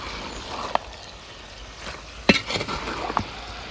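Chicken curry cooks in a covered pot, giving a low, steady sizzle with a few sharp clicks and clatters from the pot and lid.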